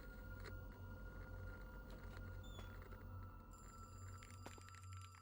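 A street phone booth telephone in a horror video game rings faintly and distantly, an electronic bell repeating over a low steady hum.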